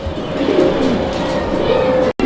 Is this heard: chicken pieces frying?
no